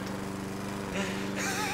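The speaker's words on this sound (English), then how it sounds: "I'm mowing the lawn." A lawn mower in a lawnmower video game drones steadily and loudly in the foreground with a constant engine buzz, and a brief higher-pitched shift comes near the end.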